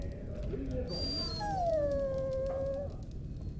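A dog whimpers and whines in the Dragon Age video game, a long high falling howl-like cry over a steady low background hum.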